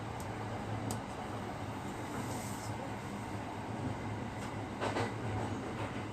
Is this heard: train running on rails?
yes